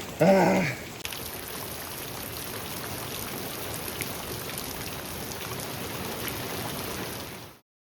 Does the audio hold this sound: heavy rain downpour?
yes